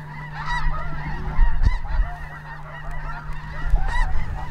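A flock of snow geese honks continuously during a hunt in open country, many overlapping calls at middle distance with a few nearer bursts, under a faint low hum and no speech.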